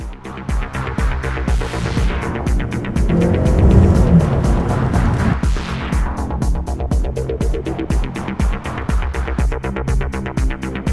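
A Toyota Camry runs on an LPG gas system, its engine droning loud and close. It revs up and swells in the middle, then settles back to a steady run, with a rapid regular pulsing throughout and no talking.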